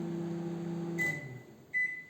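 Croma conventional microwave oven running in micro mode, a steady low hum close by, followed by a couple of short beeps.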